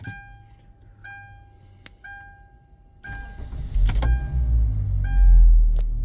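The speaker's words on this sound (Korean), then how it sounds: "자, 시동 걸어볼게요" A used car engine cranks and starts after a few electronic chimes, then idles with a steady low rumble and a persistent mechanical noise, close and fairly loud, with no talk.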